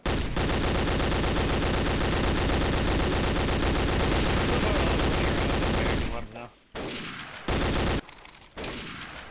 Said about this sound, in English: There's still small arms fire!